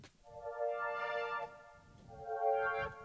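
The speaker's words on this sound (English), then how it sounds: "and just these moving pads" Soft moving synth pads in a hip-hop beat, two swelling chord stretches with shifting harmonics over a quiet, muffled low rumble.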